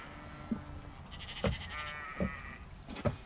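Sheep bleat a few times in short, wavering calls against a quiet outdoor background, with a few soft thumps.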